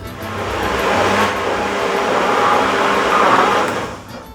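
A kitchen blender whirs steadily while mixing cake batter with wheat flour, a loud continuous motor drone close by with no talking.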